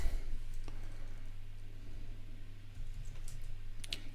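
Quiet computer keyboard typing, a few sparse, light key clicks scattered over a low steady hum, with a brief cluster of clicks near the end.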